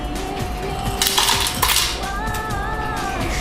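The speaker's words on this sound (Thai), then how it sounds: "น้ำแข็ง น้ำแข็งนี้ก็เทไปให้หมดเลยนะคะ ปริมาณครึ่งถ้วยค่ะ" Ice cubes, about half a cup, tipped into a kitchen blender jar for a homemade face mask, a busy clattering and rattling of hard pieces against the container, fairly close, with no talk.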